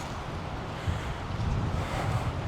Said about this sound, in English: Boy, it is windy today.